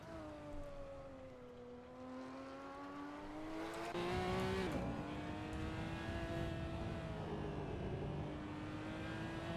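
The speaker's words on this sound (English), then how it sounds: "And we'll be on board here with Diego as he starts the first flying lap of qualifying." A race car engine in a racing video game runs on a flying qualifying lap at the Sachsenring, a steady high whine that drops as the car brakes for a corner and then climbs again, with tyre noise mixed in.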